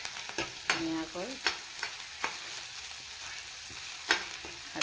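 Garlic and ginger fry in a pan with a low, close sizzle, broken by repeated sharp scrapes and taps of a stirring utensil at an uneven pace, with no talking.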